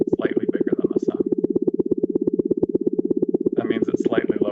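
A sped-up sonification of a subgiant star's oscillations, pitched slightly lower, comes through as a rapid, even pulsing tone. Someone talks over it at the start and again near the end.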